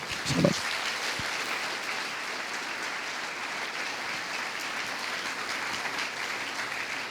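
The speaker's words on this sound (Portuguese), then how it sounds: "Dá uma salva de palmas para Jesus." A church congregation claps during a sermon, a steady, moderately loud field of applause sustained throughout, with a brief louder knock near the start.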